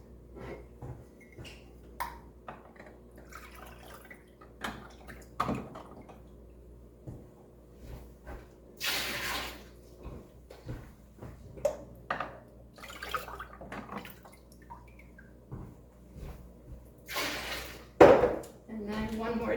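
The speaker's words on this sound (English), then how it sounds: "I feel like I have a bit too much water in here, so I'm just gonna scoop some out." Water being scooped out of a canner holding jars of sausage, with soft intermittent drips, splashes and clinks of jars and utensils at close range, separated by quiet gaps.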